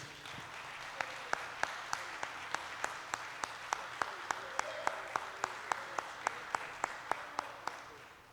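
A church congregation claps during a worship service, about twenty sharp, evenly spaced claps in a steady unison rhythm over a quiet room murmur.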